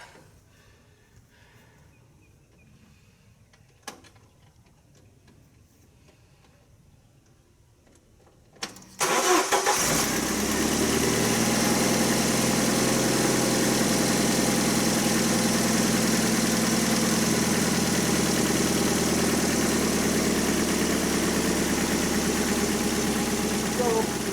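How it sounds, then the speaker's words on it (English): After a quiet stretch with small knocks, a Jeep engine is cranked and fires up around the nine-second mark following a radiator hose repair, then idles loudly and steadily nearby. "go ahead and crank it on again"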